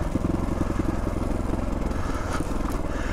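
A 2022 GPX Moto FSE450R engine riding in first gear up a steep hill, a steady close throbbing drone with rattly low-frequency pulses and faint mechanical clatter, no voices.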